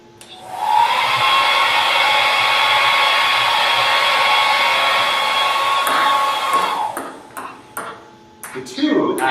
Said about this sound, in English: Watch what happens when I place the toilet paper tube over top the hair dryer.